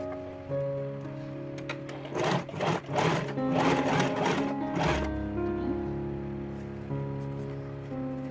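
Sewing machine stitching the left and right sides of a crocheted wallet's inner lining, running in several short bursts that rise and fall, close up over a steady background hum.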